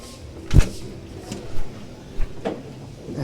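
A corridor door on the cruise ship MSC Meraviglia swings open: a sharp latch clunk, then softer thuds and knocks as it moves and settles, loud and close against quiet room tone.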